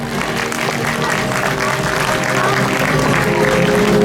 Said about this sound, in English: Children, at least we can clap for them.